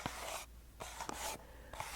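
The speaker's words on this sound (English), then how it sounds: "brushing my fingers along the lid of the box" Fingertips brush slowly along the lid of a cardboard gift box in a quiet, close-up setting, making soft papery scratching strokes in several separate passes with short pauses between, faint and intimate.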